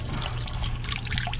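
Motor oil pouring steadily into a supercharged 2015 Camaro ZL1 during an oil change, a continuous close liquid stream and trickle with a low hum underneath.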